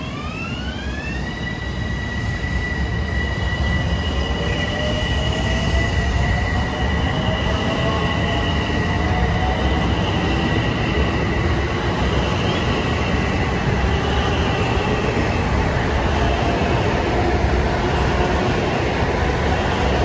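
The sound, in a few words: LIRR M7 commuter train starting up at Merillon Avenue station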